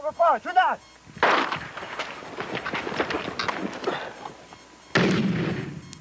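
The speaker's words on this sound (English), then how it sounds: "One grenade fired from an RPG," A rocket-propelled grenade launcher fires during basic training in the 1999 Kosovo War, a loud blast and roaring rush that trails off, followed by a second sharp boom near the end.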